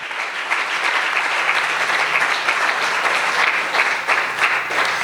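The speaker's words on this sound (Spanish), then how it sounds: "Dele un aplauso fuerte al que vive para siempre." Strong, continuous applause from a church congregation, many hands clapping evenly throughout with no one speaking.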